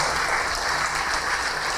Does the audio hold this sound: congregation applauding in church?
yes